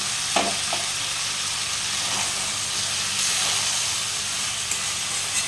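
Boiled kohlrabi and potato pieces dropped into a hot pan, giving a continuous soft sizzle and hiss with a couple of brief clunks near the start, no talking.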